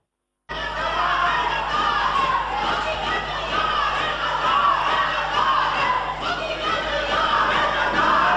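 Members shout slogans in unison during a joint sitting of Pakistan's parliament, a loud, continuous crowd of raised voices chanting rhythmically and echoing through the chamber.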